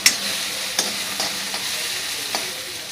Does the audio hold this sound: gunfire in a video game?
no